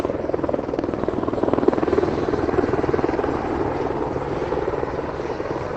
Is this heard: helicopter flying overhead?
yes